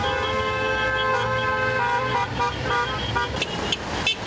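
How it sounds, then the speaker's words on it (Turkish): A convoy of about 200 flag-decorated classic cars rolls through Istanbul for the 30 August Victory Day parade in 2016, with a dense, continuous engine and traffic drone and several sharp horn toots near the end. "Klasik otomobiller 30 Ağustos Zafer Bayramı için konvoy oluşturdu."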